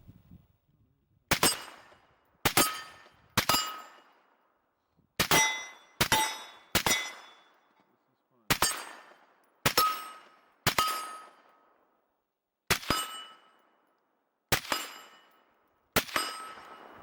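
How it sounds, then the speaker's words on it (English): Rifle fired at 50 yards through a HYPR-7 scope: a dozen sharp, loud cracks, each with a bright metallic ring trailing off, spaced singly and in quick pairs and triplets against near silence. "I decided to do some shooting at 50 yards."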